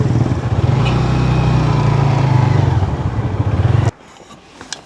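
A motorcycle engine runs loud and close as the bike is ridden forward on a road trip toward a waterfall, then cuts off abruptly, followed by a few small clicks and clatters as it is parked.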